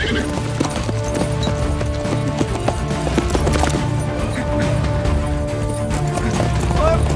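A horse in a historical Punjabi drama set around a Sikh gurdwara clip-clops in brisk rhythm, loud and close, mixed with shouting voices and a busy background score.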